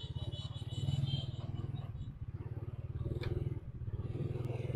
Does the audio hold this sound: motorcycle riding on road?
yes